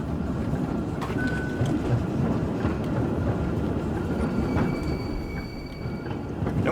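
Continuous rumbling of a tram rolling along rails in a video game, with faint metallic squeals and clatter over a steady low roar.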